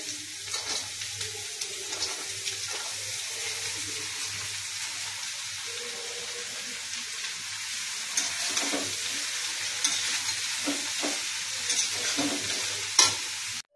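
Bottle gourd goes into a pan of green chilli and cumin powder and fries with a constant moderate sizzle, punctuated by stirring scrapes and a louder clatter near the end.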